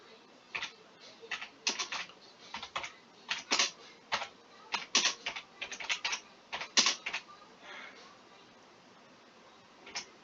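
Rapid clicking of keys on a computer keyboard, in uneven bursts and short pauses, close and fairly loud, trailing off toward the end.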